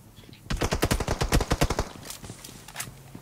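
A loud, rapid burst of about a dozen automatic gunshots in a shooting video game, then a few quieter scattered shots trailing off.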